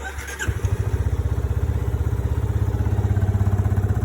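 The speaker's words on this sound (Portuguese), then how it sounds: "Vou colocar a motocicleta em funcionamento." A motorcycle engine cranks and catches after a quiet moment at a noise-measurement demonstration, then settles into a steady, rhythmic pulsing idle close by.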